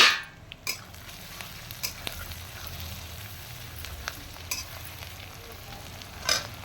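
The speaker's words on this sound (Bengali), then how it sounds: "পেঁয়াজটা আধ ভাজা হয়েছে, এবার আমি আলুটা দিয়ে একটু ভেজে নিচ্ছি।" Quartered potatoes frying in a pan with half-fried onions for mutton bhapa, a steady close sizzle with occasional clinks and scrapes of stirring, no voices.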